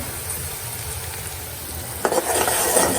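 Snakehead fish frying in mustard oil, a steady sizzle that swells louder and brighter partway through as the pan is stirred or the fish shifts.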